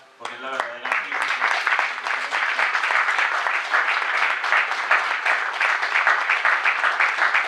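Audience at a book presentation in Ares applauding, a sustained, dense burst of clapping that starts abruptly after a brief voice and holds steady and fairly loud.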